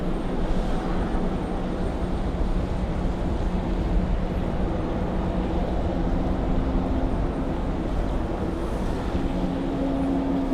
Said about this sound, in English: So we got some arrivals arriving on the back side over there